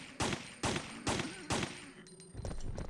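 Gunfire in the video game Resident Evil 3 Nemesis: four evenly spaced sharp shots ring out close and loud in quick rhythm, followed by quieter in-game rumbling, with no talk over them.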